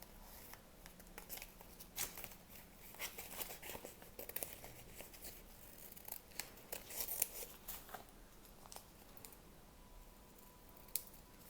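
Scissors snipping out a paper shape for a handmade orchid, a run of quiet, irregular cuts and light paper crinkles close by, with no talking.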